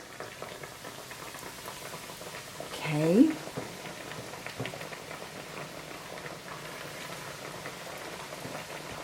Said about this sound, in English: we're going to add the tilapia to the already hot oil